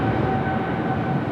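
Heavy airliner rolling down the runway at LAX, a dense, steady low roar with a faint tonal whine, sustained throughout the short stretch without voices.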